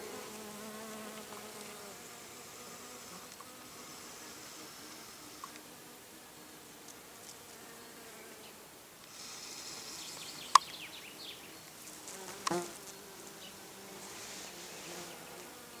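Bees buzzing around hives during linden bloom, a steady low drone with a few insects passing close, one brief sharp click and a louder buzz near the end.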